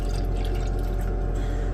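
Distilled water pours into a container as a thin, steady trickle with light drips and splashes, quiet and unbroken under a constant low background hum.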